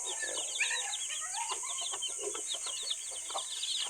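Chickens with newly hatched chicks cluck and peep busily at close range in a farmyard, with a dense, continuous chatter of short calls and no talking over them.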